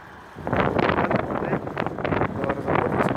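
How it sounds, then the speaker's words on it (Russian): Gusty wind buffets the microphone in loud, rumbling bursts throughout, with a voice partly audible beneath the roar, outdoors beside a Case 1455XL tractor. "Заранее извиняюсь за ветер, ветреная погода у нас."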